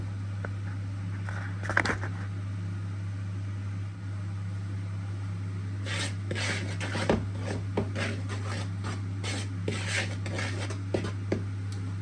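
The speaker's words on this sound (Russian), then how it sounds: "Все, мы пока перемешаем это немножко" A utensil scrapes and clinks around a bowl of whole-grain flour and baking soda in irregular strokes, fairly quiet, over a steady low hum.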